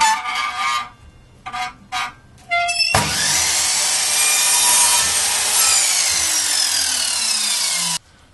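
Hand saw cutting through wooden shelf boards for a games room, with steady rasping strokes after a few short bursts of sawing at the start, loud and close, ending abruptly.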